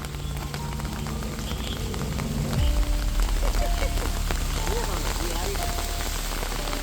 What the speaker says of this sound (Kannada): ಮಳೆ ಬಂತು ಈಗ.